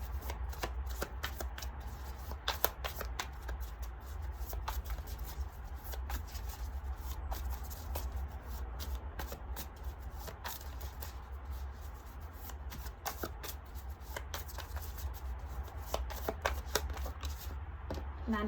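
Tarot cards being shuffled for a pick-a-card reading, a steady continuous riffling and sliding close by, running without pause through the whole stretch with no talking.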